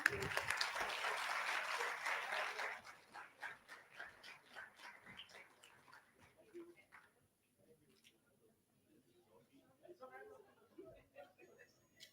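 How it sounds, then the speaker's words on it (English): An audience applauds after a panel discussion at an event: loud dense clapping for a couple of seconds that thins into scattered claps and fades, with speech returning near the end. "Let us give them a round of applause, please."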